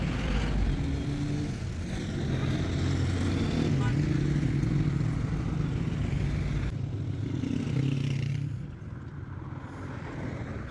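Motorcycle ridden through Kabul streets toward a parking lot, a steady mid-pitched engine drone with road clatter running for several seconds, then dropping in level near the end; a voice talks over it.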